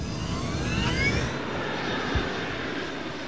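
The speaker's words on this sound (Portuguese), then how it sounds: "A tripulação monitora a velocidade ao acelerarem pela pista." Malaysia Airlines flight 370 jet accelerating down the runway for takeoff at night: a steady, loud engine roar with rising whine, continuous throughout.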